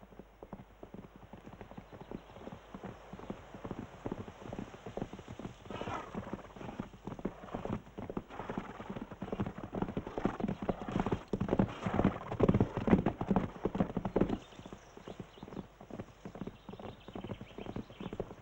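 Thoroughbred racehorses working on a training track in the morning, a dense, continuous run of rhythmic hoofbeats that builds louder toward the middle and then eases off, with no voices.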